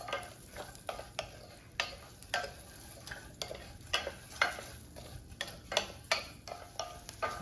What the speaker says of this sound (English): I'm going to go ahead and add my rice and just toast that for about a minute.